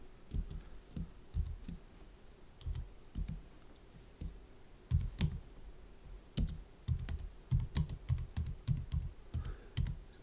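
Quiet keystrokes clatter on a computer keyboard in uneven bursts of clicks, close and soft against a faint hum, with no one talking.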